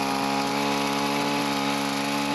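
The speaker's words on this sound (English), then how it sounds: "The pruner, trimming a bush to enhance its health and appearance." A powered trimmer runs steadily while cutting back a bush, giving a close, continuous motor whine with no pauses.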